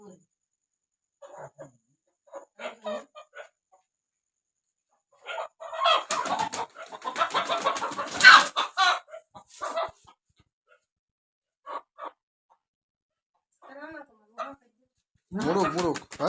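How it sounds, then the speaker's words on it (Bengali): A rooster in a Bengali village clucks and calls in scattered bursts at close range, with people talking intermittently throughout and a louder crowing-like call near the end. "মোরগ মোরগ"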